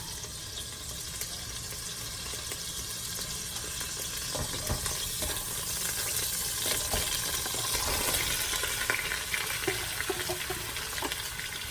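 Steady crackling sizzle of tilapia frying in a pan with onion, with occasional stirring clinks and scrapes, fairly close and continuous.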